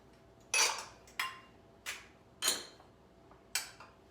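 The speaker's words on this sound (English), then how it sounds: "Adding one whole egg to this. I crack it in the bowl so I don't get any shells in there" A whole egg being cracked into a bowl, heard as five sharp, isolated taps against the bowl, close and fairly quiet, spaced irregularly with near silence between them.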